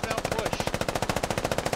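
Machine gun fire in a military video game, a sustained rapid burst of evenly spaced shots, loud and close, with no pauses.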